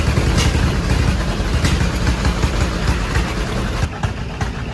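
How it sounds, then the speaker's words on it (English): A steady, loud John Deere two-cylinder tractor engine runs throughout, with a rough rhythmic chugging pulse, popping nearby. "that little two-cylinder popping noise in the background. Yes, it was from a John Deere"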